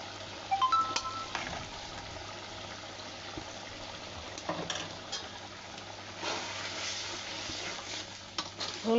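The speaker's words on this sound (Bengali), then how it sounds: "মশলাটা কষানো হয়, কষানো হলে তারপরে একে একে সব মশলা দিলাম।" A paste of ground ginger, garlic and cumin sautés in a pan with a steady low sizzle, broken by scraping and stirring knocks from a spatula, close and moderately loud with no talking.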